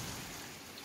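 Steady rain falls during a thunderstorm in Quitman, East Texas, with tornado warnings in effect, a soft constant hiss of drops at moderate distance, with no voices.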